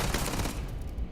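Rapid gunfire in the video game Starfield, a dense burst of shots crackling loudly before quickly fading, no talk.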